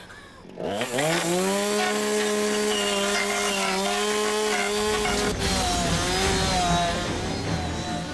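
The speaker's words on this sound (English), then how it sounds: "Nothing like a chainsaw coming at you in 3D." A chainsaw revs up and runs loudly at close range, its engine whining steadily, then shifting pitch as it bites into wood.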